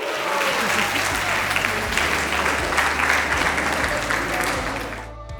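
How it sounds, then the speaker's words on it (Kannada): Audience applauding the first-prize winner of a club cookery contest at a women's event, a dense, loud, steady wash of clapping lasting several seconds before fading at the end. "ಜೋರ್ ಚಪ್ಪಾಳೆ ಬರಲಿ"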